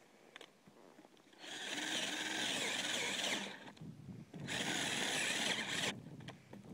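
A power drill with an auger whirs loudly in two long bursts of about two seconds each, with quieter rustling and outdoor noise between them.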